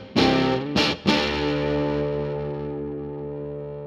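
Three sharp electric guitar strums through a Billy Gibbons Octavio fuzz pedal, fuzz set slightly low, gritty and sustained, the last chord ringing out and slowly decaying.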